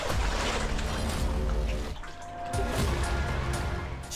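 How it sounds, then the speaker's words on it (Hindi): A stone drops into water inside a cave near Bidar, making a single brief splash midway through a continuous background wash of moving, trickling water. "तभी पानी में कुछ गिरा"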